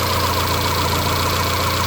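Warm 1990 Honda Accord engine idling with a fault that makes the rpm surge: a steady, close mechanical drone with a fine rhythmic pulse, heard briefly and alone.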